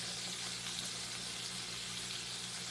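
Hush puppies fry in oil with a steady, dense sizzle and crackle, close and continuous, with no pauses or voices.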